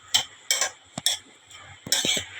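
Egg burji mixture stirred in a pan, a utensil scraping and clinking against the metal in several short, close strokes with brief pauses between them.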